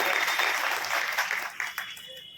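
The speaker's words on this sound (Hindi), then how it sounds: "तालियों से हम स्वागत का समर्थन करें।" A crowd at an agricultural machinery fair applauds to welcome a deputy development commissioner, a brisk wash of clapping that fades out over about two seconds amid faint voices.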